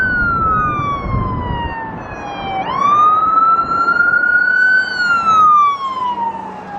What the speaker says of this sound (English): We got the ambulance coming behind me.